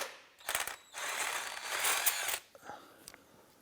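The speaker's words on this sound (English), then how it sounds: "let's go ahead and remove the crank bolt" A ratchet wrench clicks in quick bursts, loosening the crankshaft bolt on a 2001–2005 Honda Civic. The pawl chatters close and quiet, with short pauses between strokes.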